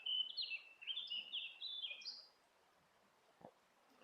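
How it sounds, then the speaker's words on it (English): Several bright, high chirping bird phrases follow one another quickly, then fade to quiet with one soft low knock afterward. "the music is the birds singing,"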